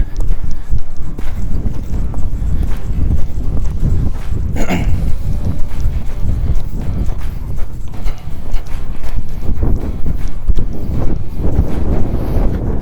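A horse's hooves beat out a steady, rhythmic loping gait, close and loud, with wind buffeting the microphone throughout and no talk.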